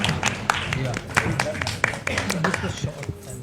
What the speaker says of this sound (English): So can we have a round of applause for RPPL,